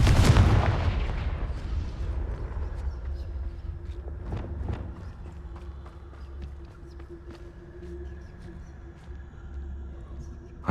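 A Confringo blasting spell from Hogwarts Legacy bursts loudly at the start, its boom decaying into a rumbling tail with a few scattered thuds and clatters, then fading to a low steady ambience.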